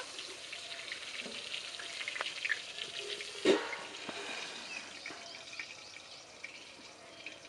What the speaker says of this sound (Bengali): আঁচটা কম দিয়ে বেগুনটা ভেজে নেব